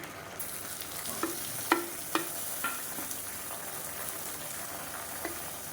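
Long sliced large onions frying in coconut oil for chicken biryani, a steady close sizzle broken by several sharp clinks of a spoon stirring against the pot.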